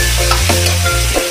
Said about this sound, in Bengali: এইবার এটা না ভালো করে ভাজা হবে